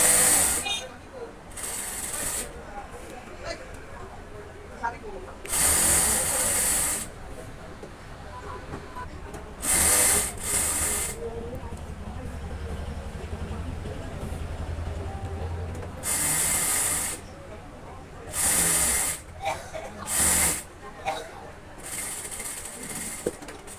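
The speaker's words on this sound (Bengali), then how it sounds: "এখন আমরা রাবারের পট দিয়ে একটা সেলাই দিব" A sewing machine stitches elastic onto fabric for pajama trousers in short, loud mechanical bursts of rapid clattering, separated by quieter pauses while someone talks in between.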